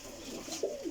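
A Royal Teddy pigeon gives a short, soft throaty coo, faint and close in a quiet coop, lasting under a second.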